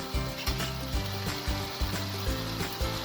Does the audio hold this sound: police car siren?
no